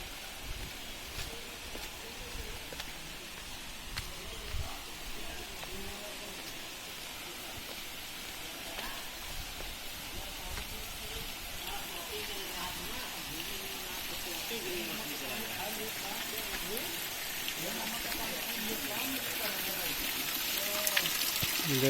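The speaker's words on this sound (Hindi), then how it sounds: "इधर से पानी गिर रहा है" A spring-fed waterfall at Verna, Goa, running with low dry-season flow, gives a steady, close wash of falling and splashing water that swells slightly toward the end, with faint voices in the background.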